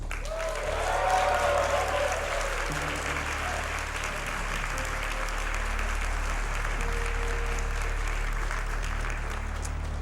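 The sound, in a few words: audience applause at Summer Games Done Quick 2015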